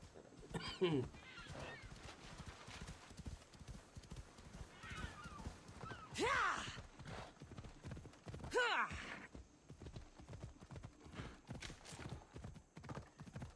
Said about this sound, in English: I'm totally going to need to relearn how to ride a horse, game-wise, that is